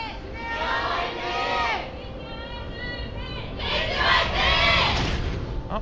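Crowd of fans cheering and shouting at a League of Legends esports match in the LCK 2016 league, a loud roaring swell that rises again toward the end, with commentators talking over it.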